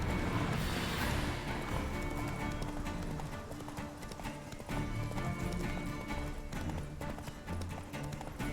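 Rhythmic hoofbeats of Roach, Geralt's horse in The Witcher video game, galloping steadily over a busy game soundscape with music, loud and continuous throughout.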